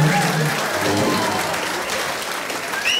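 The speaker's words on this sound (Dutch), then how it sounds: "hier komt dan even het eerste daverende applaus." Thunderous applause from a live choir audience at a concert recording, a dense, steady burst of clapping that stays loud for about three seconds with a few faint whistles near the end.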